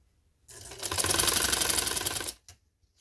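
A sewing machine stitching a neck design on a garment runs in one steady, close burst of rapid mechanical clatter lasting under two seconds, with no talk over it.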